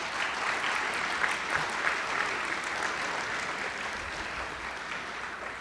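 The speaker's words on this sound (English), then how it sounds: "Would you please give them a round of applause?" Sustained audience applause fills an auditorium after a student performance at an evening event, a dense, steady wash of many hands clapping at even loudness throughout.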